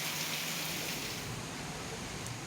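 Heavy rain pours down in Khambhalia, Dwarka, a dense, even hiss of falling water that stays constant and close for the whole short stretch.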